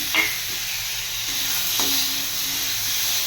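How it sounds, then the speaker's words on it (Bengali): Onions frying in hot oil with chopped tomato going in, a steady close hiss of sizzling with a couple of faint knocks near the start and middle. "পেঁয়াজটা কিন্তু হালকা লাল হয়ে আসছে এর মধ্যেই দিয়ে দেব টমেটো কুচি"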